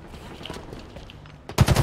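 A short burst of gunfire from the video game Halo Infinite cuts in loudly after a low background hum of the match.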